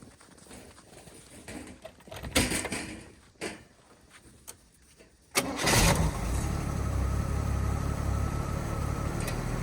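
Chevrolet Nova engine starting after wiring work: a few sharp clunks and brief cranking bursts, then the engine catches with a loud roar and settles into a steady, rumbling idle close by.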